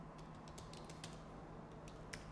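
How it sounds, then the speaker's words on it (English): Quick, quiet clicks of typing on a computer keyboard, a brief run of keystrokes close by in a quiet room. "So I'll just type here"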